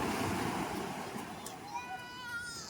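Ocean surf washes steadily onto a beach with a broad, continuous rush and wind noise, while people chatter close by.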